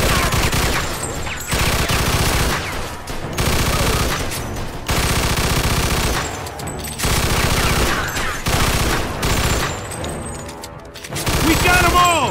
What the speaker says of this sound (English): Stop shooting that fucking thing.